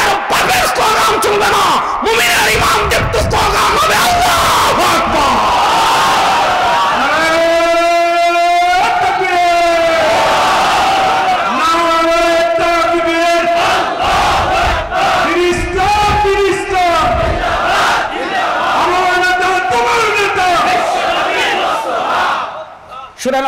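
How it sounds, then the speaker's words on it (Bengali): A large crowd at an Islamic sermon gathering loudly chants the slogan Allahu Akbar, several sustained rising shouts in unison, close and powerful, with voices overlapping throughout. "মুমিনের ঈমান দীপ্ত স্লোগান হবে আল্লাহু আকবার।"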